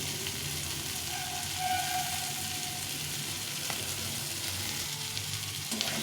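Mashed potato fries in a hot pan with a steady, even sizzle that holds close and moderately loud for the whole stretch, with an occasional faint scrape of stirring.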